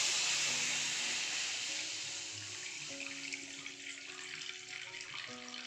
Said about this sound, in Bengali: পুর বানানোর জন্য আমি দুধ দিয়ে দিয়েছি।